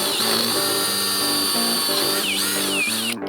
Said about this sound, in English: Drill a hole through all that